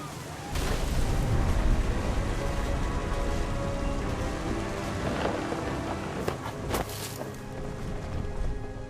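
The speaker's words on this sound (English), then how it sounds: "thunder sounded much too close and full of angry power" A storm in the video game What Remains of Edith Finch: steady heavy rain patters throughout, with low rumbling thunder swelling underneath and a few sharper cracks toward the end.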